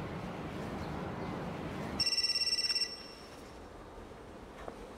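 A telephone rings once in a quiet room, a bright trilling electronic bell burst lasting under a second, fairly loud and close, after a stretch of background noise, with no talking.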